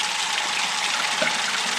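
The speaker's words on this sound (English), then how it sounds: "I'm turning on the cold water" Cold water gushing steadily from a kitchen tap in a mountain home by the South Fork of the Boise River, a close, even hiss of running water with no pauses and no talking.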